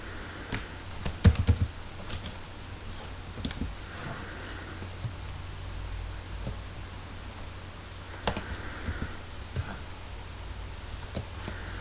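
Fingers type on a computer keyboard in irregular bursts of light clicks and key taps, close by, with brief pauses and a faint steady background hiss and no talking.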